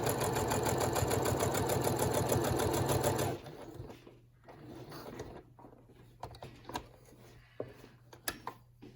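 A sewing machine stitches elastic into a fabric mask, a rapid, loud mechanical whir for about three seconds, then stops, leaving a faint hum and scattered clicks and rustles of the fabric being handled.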